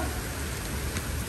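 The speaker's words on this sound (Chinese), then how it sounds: "下雨" Steady rain patters continuously in a video game, a dense even hiss holding for a brief stretch with no voices.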